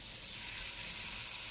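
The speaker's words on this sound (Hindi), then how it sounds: "अब हम इसमें चिकन के पार्चे डालते जाएंगे" Steady, dense sizzle of chicken pieces frying in a pan of oil with ginger and garlic, a continuous hissing crackle with no talk.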